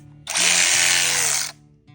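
A DeWalt 3/8-inch drive cordless ratchet with a brushless motor whirs loudly and close for just over a second, a high buzzing motor spin that cuts off abruptly.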